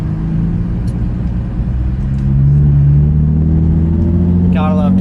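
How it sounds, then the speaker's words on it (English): Nissan 350Z cruising on a daily drive, its steady mid-pitched engine drone and low road rumble holding throughout, rising slightly in pitch partway through as it accelerates. "Gotta love daily driving the 350Z though."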